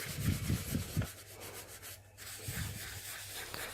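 Dry pastel is rubbed and blended across paper in a few quick strokes, then softer, slower rubbing follows, a close, faint, dry scratchy friction with no talking.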